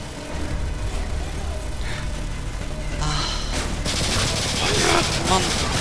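Rapid gunfire in Call of Duty MW2, bursts of shots under a player's excited speech, growing louder and harsher toward the end.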